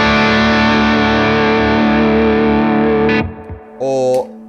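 An electric guitar plays through a Dane distortion pedal, a thick sustained distorted chord ringing loud and close before cutting off, followed by a short distorted stab.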